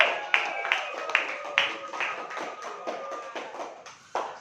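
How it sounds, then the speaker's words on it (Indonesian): A classroom of students claps for a student group after its presentation, with uneven, fairly sparse claps sounding close by, and a few voices mixed in. "Mari kita beri tepuk tangan untuk kelompok 3."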